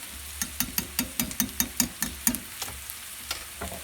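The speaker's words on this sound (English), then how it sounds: "I've got a 1/3 of a cup of flour in this little pan, and I've got about a 1/4 cup of oil. Make that roux" A third of a cup of flour and about a quarter cup of oil stirred into a roux in a small pan, with quick, regular scraping taps of the spoon over a soft sizzle that slows toward the end.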